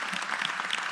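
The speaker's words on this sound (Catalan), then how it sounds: "un aplaudiment per tu i enhorabona" Applause at an awards ceremony in the Montsant wine region honoring a winner, a short steady burst of many hands clapping close by.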